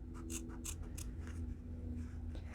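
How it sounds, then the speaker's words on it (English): Scissors cut straight across denim jeans being distressed, a series of crisp snipping crunches spaced in a fairly even rhythm, close and quiet over a low background hum. "Once I have enough room to slide my scissors in, I go ahead and cut straight across."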